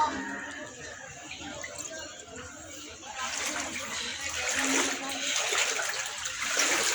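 Floodwater rushes and splashes in a steady broad wash, growing louder partway through, with a voice talking over it.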